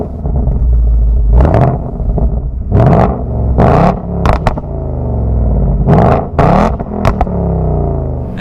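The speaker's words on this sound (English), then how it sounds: "we're definitely gonna get a good exhaust note" A 2019 Ford Mustang Bullitt V8 in Sport Plus mode roars through several loud acceleration pulls while driving, deep rumbling surges broken by sharp shift gaps and brief lulls.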